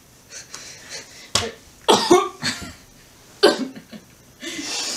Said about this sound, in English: Oh, you coughed all over the crackers!